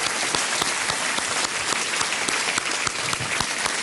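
A studio audience on the KBC quiz show claps in steady, sustained applause, a dense continuous patter of many hands filling the whole stretch with no talk over it.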